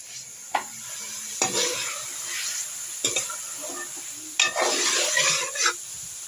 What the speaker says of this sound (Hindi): जब ये ऑयल छोड़ देगा ना अच्छे से भून जाएगी